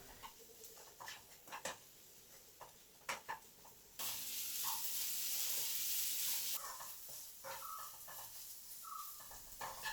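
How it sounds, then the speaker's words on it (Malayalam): Chopped green chillies sauté in a pan for paneer masala, with light stirring clicks that give way to a loud, steady sizzle mid-clip before settling into quieter frying. "2 വലിയ പച്ചമുളക് അരിഞ്ഞത് ചേർത്ത് കൊടുക്കാം. പച്ചമുളക് ചേർത്തതിന് ശേഷം നല്ലപോലെ വഴറ്റിയെടുക്കണം"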